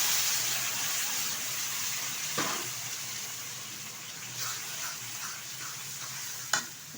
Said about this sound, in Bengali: ভালোভাবে একটু কষিয়ে নেব মশলাটা তেলের সাথে